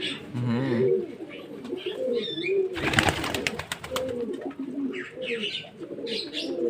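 Pigeons coo in low, rolling phrases while feeding in summer heat, with brief chirps and a burst of fluttering midway; someone talks over them throughout.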